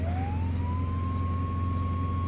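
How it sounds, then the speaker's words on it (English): A steady emergency vehicle siren tone in the video game Flashing Lights holds constant over a low engine rumble, loud and continuous throughout. "change up the siren sound for them to do it"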